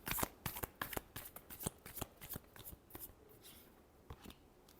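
Tarot cards being shuffled by hand, a rapid run of crisp papery riffles and slaps that thins out toward the end, close and fairly quiet with no talking.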